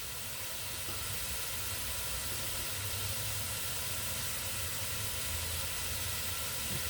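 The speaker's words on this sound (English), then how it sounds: "you hear a little sizzle" Pot roast sears in a hot pot, a steady soft hiss of sizzling that holds evenly throughout with no talk.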